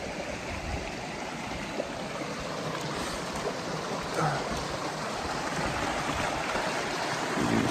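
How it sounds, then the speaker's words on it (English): Steady rushing of a creek flowing over rocks near Bishop, continuous and fairly close, with no voices. "You can see the creek."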